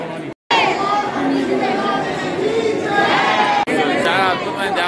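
Dense crowd chatter inside the Radha Raman temple in Vrindavan, many voices overlapping close by and continuous, with a brief drop near the start.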